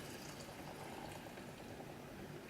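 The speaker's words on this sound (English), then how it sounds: "add in our shrimp broth, and I'll try to, it's hot, so I'm just going to pour this thing in." Hot shrimp broth poured into a thick masala prawn sauce in a pan, a soft steady liquid pour with bubbling and sizzle, faint and continuous with no talk.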